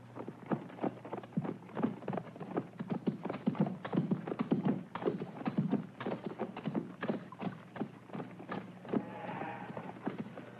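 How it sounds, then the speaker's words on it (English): Horses pulling a heavily loaded baggage cart in a 1962 gladiator film, a steady run of clip-clopping hooves with creaks and rattles, moderately close, with no voices. "The baggage cart is heavily loaded, and the horses were nearly exhausted."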